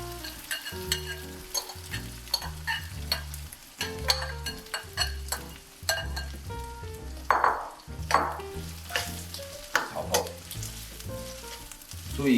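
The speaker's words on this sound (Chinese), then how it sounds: "然后把刚搓完的蟹粉放入锅中。" Crab roe, freshly rubbed from the crab, sizzles and fries in a hot wok for crab-roe rice, with steady crackling broken by repeated clinks and scrapes of stirring under a low, tonal background.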